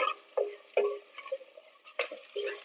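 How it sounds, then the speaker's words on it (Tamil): Onions softening in hot oil in a pan while Karaikudi paruppu urundai kuzhambu is being made, with a low sizzle broken by several sharp spoon-stirring scrapes. "வெங்காயம் நல்லா வதங்கட்டும் இது கொஞ்சம் சாஃப்ட் ஆகிற வரைக்கும் எண்ணெயிலே நல்லா வதக்கி விட்டுக்கலாம்"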